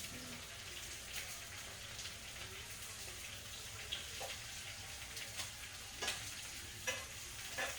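Sausage fries in a skillet with a soft, continuous sizzle and spatter, broken by occasional sharper scrapes and taps that get more frequent near the end. The sound is faint and close.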